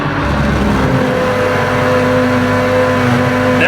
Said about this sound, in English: soon, in another few minutes or so, the grinder will start